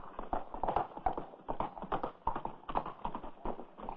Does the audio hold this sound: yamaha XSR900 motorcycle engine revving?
no